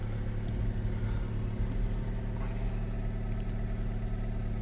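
A Vauxhall Corsa engine idles steadily just after starting, a continuous low rumble heard from close by, alone without talk.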